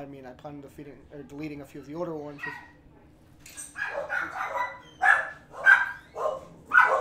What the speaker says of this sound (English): oh, sorry about the dogs, by the way.